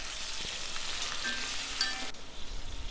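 Brinjal (eggplant) pieces fry in oil over a medium-low flame, giving a soft, continuous sizzle with faint crackles and a light stir, fairly quiet and close.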